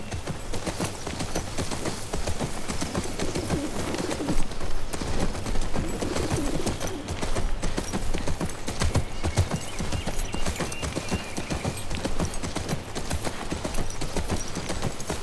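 A horse ridden in The Last of Us Part II clip-clops in a steady, continuous rhythm of hooves, close and prominent over a dense ambient bed of outdoor game sound.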